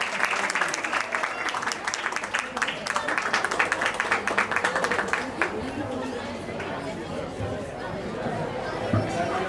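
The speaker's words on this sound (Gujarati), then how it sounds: "ભાઈ તાળીઓ વગાડતા જ રહો" An audience claps loudly at an institute's annual function, sustained applause mixed with crowd chatter and a voice talking over it, the clapping thinning toward the end.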